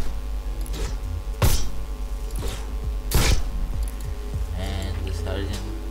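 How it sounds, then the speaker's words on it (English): Pickaxe swings in the Fortnite battle royale game, with two loud sharp impact strikes standing out over a steady game soundscape and a few lighter clicks and swishes. "And this pickaxe sounds like this."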